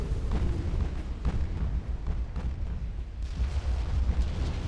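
A torpedo explosion in the naval warfare game Ultimate Admiral: Dreadnoughts, a loud sustained rumbling roar with heavy low-end crackle lasting several seconds, with no talk over it.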